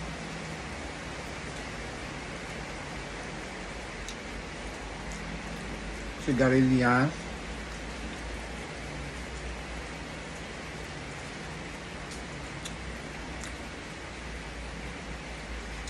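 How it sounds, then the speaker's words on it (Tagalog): Steady rain falls as a constant hiss on surfaces outdoors, unchanging and moderately loud, with a voice briefly speaking over it midway. "lumakas ang ulan"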